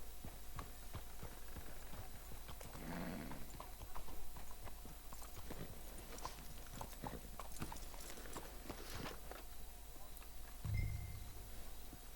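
Horse hooves in Red Dead Redemption 2 clip-clop in a steady walking rhythm on hard ground, fairly quiet, with a soft background hum and a brief low thump near the end.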